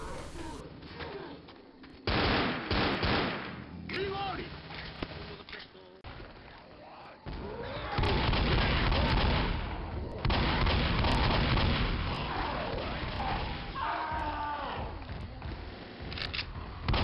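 Rapid automatic gunfire from the main weapon in Left 4 Dead during a Tank fight, loud and dense bursts with chaotic game effects and a voice talking over much of it.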